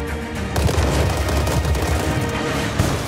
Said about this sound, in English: This is the K2C1, a trusty service rifle of the Korean Army